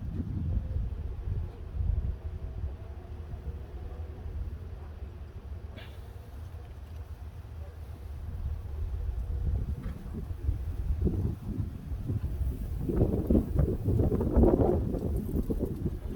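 Wind buffets the microphone in low, rumbling gusts, growing heavier and more turbulent toward the end.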